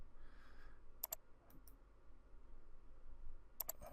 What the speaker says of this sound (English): If you want to uncheck it, you click on the green check and it unchecks it.